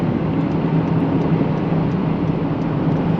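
A car moves along a snowy Michigan road with a roof light bar adding wind noise, giving a steady, even engine and road drone that stays loud and constant with no voices.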